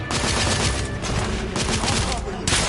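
Heavy, continuous gunfire rages in a combat video game, dense overlapping shots and bursts loud and close throughout, with soldiers' voices shouting over the battle.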